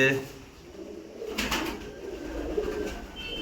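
Paired pigeons in a loft, including black ones, give soft, low, close coos amid faint background rustle and possible voices.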